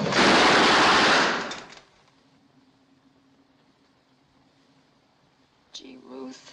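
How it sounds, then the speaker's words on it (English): Short loud burst of rapid rattling, like a machine gun in a 1942 film, sounding close for about two seconds and then stopping, followed by near silence and a brief voice at the end. "Sounded like a machine gun."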